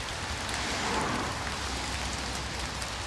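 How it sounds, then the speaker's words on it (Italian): Steady rain pours down at the Clitunno springs, a dense, continuous hiss of drops that stays loud and even throughout, with no voices. "purtroppo piove"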